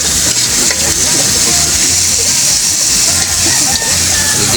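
Tomatoes, onion and chili sautéing in a hot pan, a loud continuous sizzle with a few soft stirring sounds and no talking.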